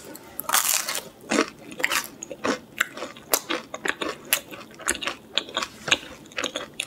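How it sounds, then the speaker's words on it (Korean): Someone bites and chews the crispy crust edge of a Papa John's pizza close to the microphone, with a rhythmic run of loud crunches and a few smaller crackles. "엣지 부분이 크리스피한 게 굉장히 마음에 든다"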